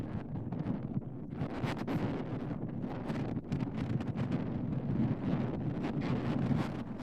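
Steady wind gusts buffet the microphone outdoors in a Scottish field, a continuous low rumble and roar with rustling texture, loud and unbroken throughout.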